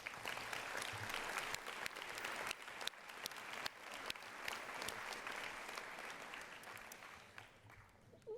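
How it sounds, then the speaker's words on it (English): Sustained applause from a sizable audience at a Board of Education awards ceremony, a dense wash of clapping that holds steady, then tapers slightly at the end. "let's give our board members a round of applause"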